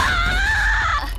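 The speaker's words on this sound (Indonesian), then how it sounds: "Melihat Light menjerit mereka pun merasa senang dibuatnya" An animated story character lets out a sustained high-pitched scream, loud and close, lasting about a second before trailing off.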